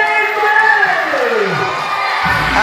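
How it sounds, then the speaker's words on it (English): A wrestling crowd in Hoddleston cheers after a chain challenge match, a steady loud roar of voices and shouts, with a rising whoop sweeping through and a commentator talking over it. "The crowd here in Hoddleston are delighted."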